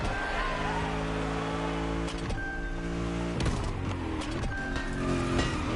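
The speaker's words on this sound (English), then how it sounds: "We have prepared a classic for you from a very famous German brand, the BMW Z4 M40i." A BMW Z4 M40i roadster engine drones steadily in a PS5 racing game, holding a sustained rev with shifting pitch and a few sharp transient bursts, with faint voice underneath.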